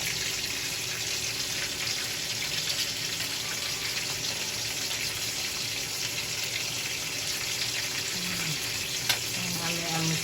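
Babakan fish frying in hot oil for breakfast, a steady close sizzle and crackle that fills the whole stretch with faint clinks near the end.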